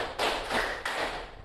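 Hand claps from a group in a counting clapping game at a teacher training session, two or three roughly timed bursts of many hands striking together, moderately loud in an echoing room, no speech.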